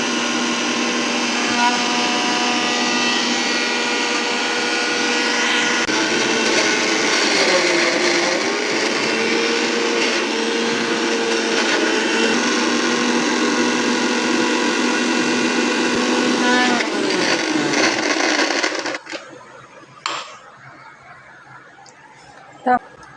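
A mixer grinder grinding dried Bombay duck fish whirs loudly and steadily for about nineteen seconds, then cuts off, leaving a few faint knocks.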